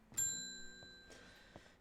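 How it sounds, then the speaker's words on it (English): Strange Horticulture's shop bell gives a clear, quiet ding that decays slowly, followed by a fainter second chime, with no voices. "Anyway, ding ding goes the bell."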